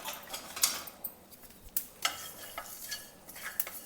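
Coriander, kalonji and fenugreek seeds dry-roasting in a pan for paneer tikka, with a light crackle under repeated scraping and stirring clinks from a spoon against the metal pan, no voices.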